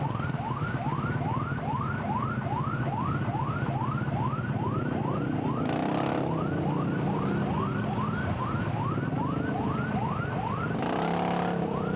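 A police siren wails in a steady repeating rise-and-fall pattern, continuous and moderately loud, over traffic rumble with a couple of brief noise bursts.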